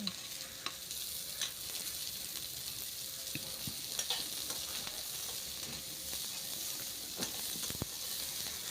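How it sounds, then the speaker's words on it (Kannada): Onions frying in a pan make a quiet, even hiss of sizzling oil, broken now and then by brief clicks and scrapes of stirring. "ಈರುಳ್ಳಿ ಹಾಕೊಂಡ್ಬಿಟ್ಟು ಚೆನ್ನಾಗಿ ಫ್ರೈ ಮಾಡ್ಕೋಬೇಕು"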